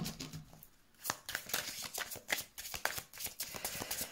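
Tarot cards riffled and shuffled by hand ahead of a card draw, quiet close papery flicks and slaps coming in uneven bursts.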